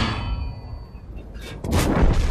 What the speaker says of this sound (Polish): Jest delikatny taranik i ostatni strzał łaski